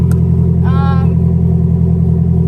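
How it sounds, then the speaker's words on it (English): SR20-swapped Nissan 240SX engine starting and idling steadily up close, with a brief rising tone over the low rumble early on, and no clear hard revving. "That feeling when your 240 starts like first try, that never happens."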